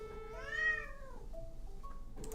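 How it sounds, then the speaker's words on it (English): A cat gives one drawn-out, loud meow that rises and falls, followed by a couple of shorter, softer mews, close to the listener in a quiet indoor room. "Kitty, you're being very loud right now"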